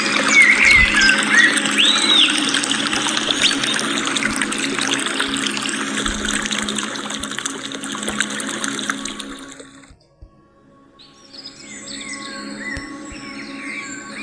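A thick, steady stream of water pours down without pause, splashing loudly for about ten seconds before it briefly drops away and then trickles back more faintly.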